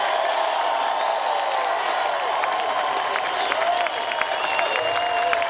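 A large political rally crowd applauds and cheers at close range, a dense continuous wash of clapping with whoops and shouts layered on top, sustained at full volume throughout.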